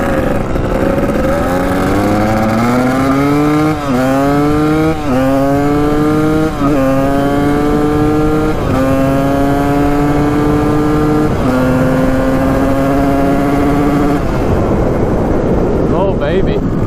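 A cheap dirt bike engine runs loud and close, revving up and down in repeated rising pitch sweeps with a buzzy, harmonic-rich drone before it settles at the end.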